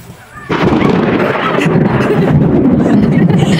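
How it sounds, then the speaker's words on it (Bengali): A sudden loud crack of thunder from a nearby lightning strike bursts in after a quiet moment in a rural Barisal village, then rolls on as a heavy, sustained rumble that fills the rest of the clip. "হঠাৎই ঠাস করে একটা বজ্রপাত পড়ছে"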